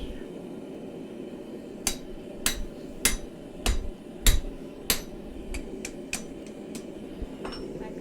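A hammer punches through hot steel while a karambit is forged, about a dozen sharp metallic strikes landing close by at an irregular pace, some in quick pairs, over a low background rumble.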